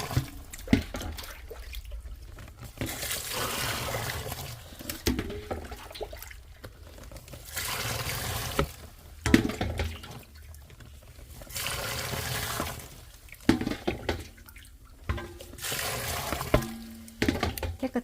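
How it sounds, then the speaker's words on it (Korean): Water for dongchimi being poured through a fine mesh sieve, heard as intermittent splashing and trickling pours in several bursts with quieter gaps between them. "혹시 모르니까 물을 걸러주도록 하겠습니다."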